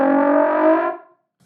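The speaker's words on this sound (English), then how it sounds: "that sound, that's the flutter tongue." A trombone blows one buzzy, rasping flutter-tongue growl, a rough sustained note held close and loud for about a second before it cuts off into silence.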